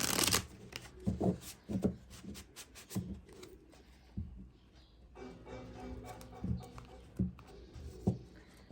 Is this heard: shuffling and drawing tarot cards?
yes